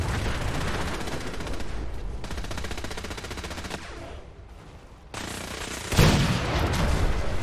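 Sustained automatic gunfire in Fallout 4, long rapid rattling bursts close and loud, breaking off briefly before resuming with a heavy boom-like impact near the end.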